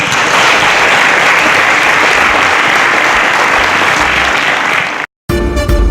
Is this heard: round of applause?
yes